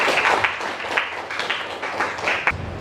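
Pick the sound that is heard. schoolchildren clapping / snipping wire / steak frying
schoolchildren clapping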